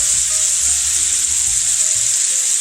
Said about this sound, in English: Now my sausage is browning very well.